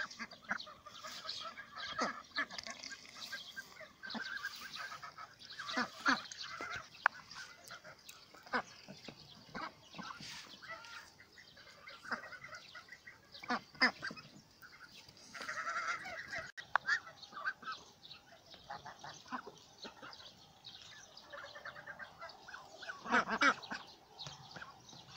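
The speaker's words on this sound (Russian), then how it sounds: "А это наши утки и птицы." A flock of farmyard ducks and geese honk and quack continuously nearby, a busy overlapping chorus of calls lasting throughout.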